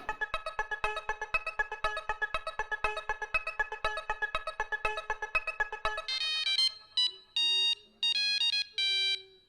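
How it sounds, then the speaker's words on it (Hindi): A phone ringtone plays loudly in a Hindi comedy home scene: a steady run of rapid, evenly pulsed electronic tones, then a shift to longer, separate beeping bursts, with no voices. "रोशन भाभी, सोडी भैया का फोन"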